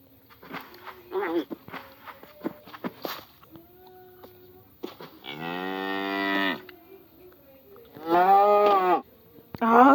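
Cows mooing in the video game Minecraft: two long, loud harmonic moos near the middle and end, with footstep-like clicks and short game sounds before them and a brief third call starting at the very end.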